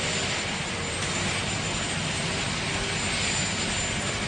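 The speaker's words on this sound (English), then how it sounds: "They'll be taking that Executive One U.S. Marine Corps helicopter." A U.S. Marine Corps helicopter, the Executive One transport, runs with a loud, steady turbine roar and whine that holds constant throughout, with no voices.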